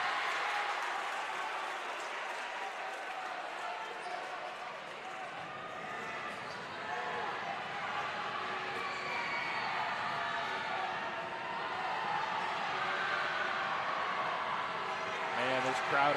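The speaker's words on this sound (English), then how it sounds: "this crowd is raucous tonight" A raucous high school basketball crowd in a packed gym during a close West Scranton vs Wilkes-Barre Area game, a dense continuous roar of cheering and chatter with occasional sneaker squeaks, staying loud throughout.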